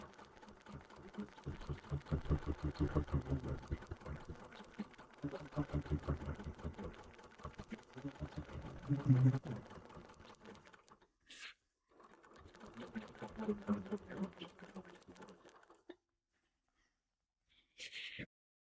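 A sewing machine stitches straight across a template on orange colour-pencil quilt fabric, running steadily for about eleven seconds, pausing, then running again for several seconds before one brief final burst.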